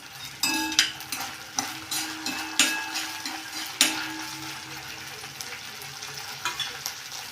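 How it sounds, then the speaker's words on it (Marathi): Ginger garlic paste sautéing in a pan for a homemade chickpea curry, with a steady close sizzle and sharp scrapes and clinks of a spoon stirring against the metal every second or so. "आलं लसूण पेस्ट टाकली, मस्तपैकी परतून घेऊया."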